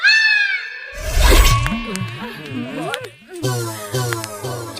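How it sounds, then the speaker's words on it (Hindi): Mosquitoes in a rural village setting whine around a city visitor: a thin, high buzzing opens, then gives way to wavering, droning tones that rise and fall in loops, fairly loud and close throughout. "शहरी खून के देहाती मच्छर स्वाद ले तारन सन।"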